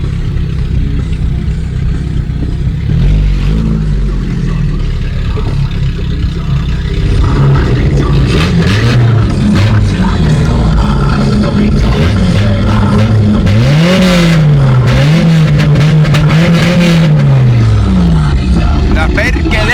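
A 2.0-litre Opel Vectra engine revs up and down in repeated swells over a steady rumble, the pitch climbing and falling several times, with people talking nearby.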